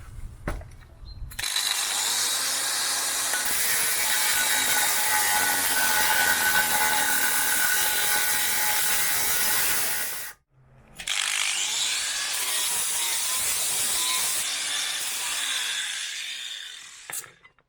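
An angle grinder screams through a Corvette C3 exhaust muffler pipe in a long harsh lengthwise cut, pauses briefly, then resumes with another loud grinding pass, close up and without speech.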